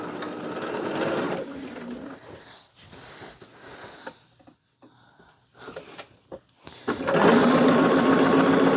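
Sewing machine stitching two pieces of quilt fabric together, a rapid mechanical whirring burst at the start, a pause with faint handling, then the motor running again loud and close.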